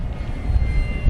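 An FMS Corsair 1700mm RC warbird airplane roars steadily overhead, a continuous engine and propeller drone with a slight rise and fall in loudness, fairly close and with no talking.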